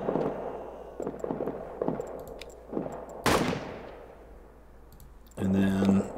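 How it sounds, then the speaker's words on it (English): Hand grenade exploding in a trench warfare video game: a sharp, loud blast that decays into a rumbling tail, preceded by soft clicks and handling sounds, with a brief burst of other game noise afterward. "Let's throw a hand grenade."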